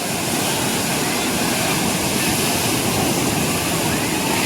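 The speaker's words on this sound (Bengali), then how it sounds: "বাট এইবারে প্রচুর ঢেউ আসছে, মানে দেখতেই পাচ্ছেন প্রচুর ভিউ, মানে প্রচুর ঢেউ আসছে এখানে, লম্বা লম্বা বড় বড়।" Big, long sea waves break and rush onto the beach at Old Digha, a loud, steady wash of surf filling the whole stretch without pause.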